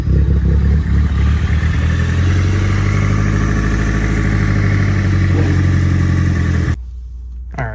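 A Nissan 180SX drift-spec car's engine runs at a steady, loud idle with a raw exhaust drone and a low throb, then cuts off abruptly near the end, leaving quieter background.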